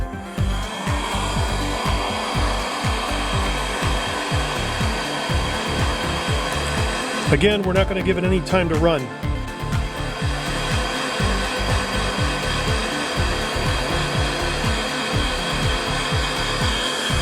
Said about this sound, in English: You see I'm bouncing the heat gun there.